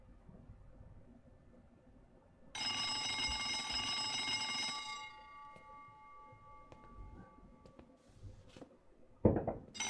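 A telephone rings in the Cube Escape Paradox film, a loud, bright, sustained ring lasting about two seconds against a quiet, faintly rumbling background, followed by a few brief knocks.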